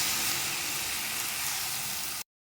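Chopped tomatoes hit a pan of frying onions and ginger-garlic paste for a brinjal curry, giving a steady, loud, close sizzling hiss that holds unbroken for about two seconds before cutting off abruptly.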